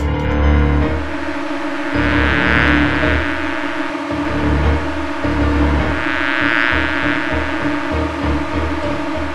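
Cartoon bees buzzing in a Peppa Pig scene, a loud continuous droning hum with swelling whines, layered over a steady musical backing, no talk.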